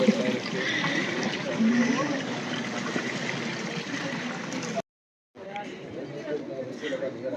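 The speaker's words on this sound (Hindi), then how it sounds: "ये नंदी महाराज के मुंह से पानी निकल रहा है, ये मंदाकिनी नदी का पानी है।" Mandakini river water pours steadily from the mouth of a Nandi bull statue at a temple in Kedarnath, making a continuous close splashing and trickling flow. People talk over it, and the sound cuts out briefly near the end.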